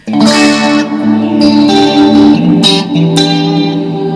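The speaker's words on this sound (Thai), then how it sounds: "เสียงคลีนที่มีแต่รีเวิร์บ" Clean electric guitar played through a TANK G effects unit with only reverb on, sustained chords ringing with a spacious wash, loud and close, alone without talk.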